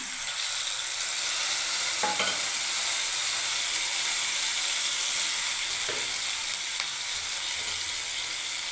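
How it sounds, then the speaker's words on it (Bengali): Onion, garlic, ginger and tomato paste frying in a pan, giving a continuous bright sizzle with a few distinct spatula scrapes as the mixture is stirred. "এবার আমি নাড়তে থাকবো এগুলোকে।"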